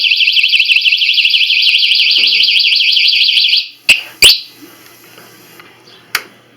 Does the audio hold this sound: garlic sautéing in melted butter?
no